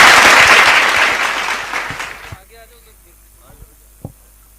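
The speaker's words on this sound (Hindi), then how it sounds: "मैं जोरदार तालियों के साथ में आमंत्रित करना चाहूंगा प्रवीण कुमार" Loud applause at a cricket tournament opening ceremony greets cricketer Praveen Kumar, a dense roar of clapping that fades out over about two seconds, leaving a quiet room with a few faint knocks and a brief sharp thump.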